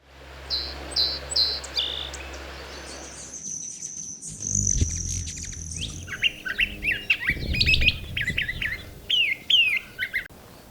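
Wild birds in Arizona sing nearby in bright, repeated chirps and trills, opening with a quick series of high notes before a more varied chorus with some soft rustling underneath.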